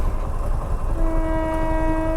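A train approaches a railway crossing at high speed on a Gujarat highway, its steady tonal horn sounding over a low rumbling roar.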